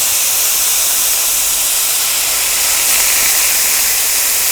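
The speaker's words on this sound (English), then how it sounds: "I'm going to add about half of this pineapple juice." Pineapple juice hitting a hot pan of pulled pork, giving a loud, steady hiss of steam and sizzle that continues without a break and with no talking.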